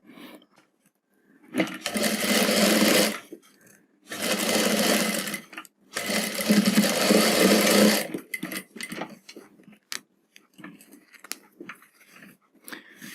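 A sewing machine stitches a folded sleeve in three sustained whirring runs separated by short pauses, close and steady, with light handling clicks afterward.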